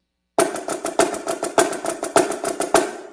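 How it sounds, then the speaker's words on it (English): Crisp snare strokes play a quick, even paradiddle sticking pattern, with a heavier flammed accent recurring in a steady cycle, close and alone. "So now it sounds like this, para flam tap, or choo-choo."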